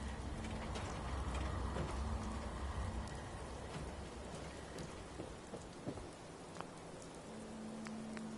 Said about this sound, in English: Sick of getting rained on.